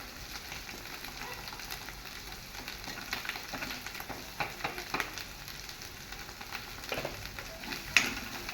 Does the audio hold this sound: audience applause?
no